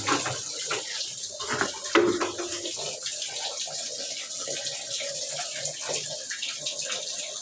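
Water from a household pump runs steadily for washing, a continuous close splashing hiss with slight fluctuations and no voices.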